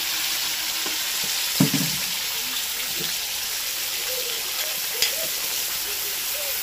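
A pan of spiced yogurt for doi begun being stirred, giving a steady soft sizzle and hiss with a couple of faint spoon scrapes and knocks, close and fairly even throughout.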